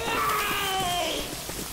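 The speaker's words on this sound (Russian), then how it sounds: "Так, курище где-то орёт." A Smoker zombie in Left 4 Dead 2 lets out a drawn-out, wavering yell that rises and bends in pitch for over a second before trailing off, at moderate distance, with no talk over it.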